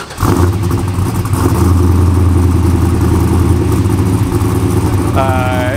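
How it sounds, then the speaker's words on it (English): A 1966 Chevrolet Chevelle V8 engine cold-starts and settles into a loud, rumbling, lopey idle, steady and close, with a brief rev near the start. "I like cold starts because it really makes the engine sound good."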